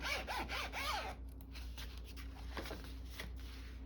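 Zipper on a handmade junk journal pouch, several quick close zipping strokes with a pitch that sweeps up and down, then softer scattered rubbing and handling sounds over a low background hum.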